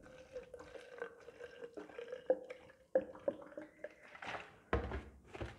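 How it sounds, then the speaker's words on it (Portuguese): Bleach trickling and dripping into a liquid soap mixture in a small container, a close, quiet pour with uneven liquid splashes and a few light knocks, no voices. "Eu vou pôr também 50 ml de água sanitária."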